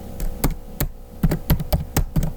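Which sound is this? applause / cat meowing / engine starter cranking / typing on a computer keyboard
typing on a computer keyboard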